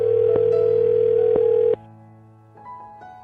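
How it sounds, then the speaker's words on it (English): A steady, loud telephone dial tone hums for under two seconds, punctuated by clicks, then cuts off and leaves a quieter line with faint tonal murmurs. "I'm going to dial his phone number right now"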